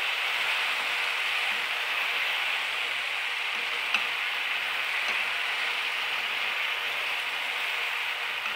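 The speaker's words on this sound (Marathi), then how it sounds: "याला आपण थोडंसं फ्राय करून घेऊ याच्यामध्ये" A curd and gram flour mixture fries in a pan, giving a steady, even sizzle that runs unbroken throughout, with a couple of faint ticks and no talking.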